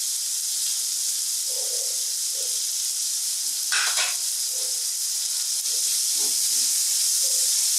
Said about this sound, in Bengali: এবারে 1 টেবিল চামচ আদা রসুন বাটা দিয়ে দেবো।